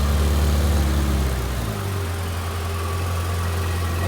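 Ferrari 488 GTB engine, partly disassembled, running loud and steady, a heavy low rumble that drops after about a second and a half into a smoother, lower idle drone.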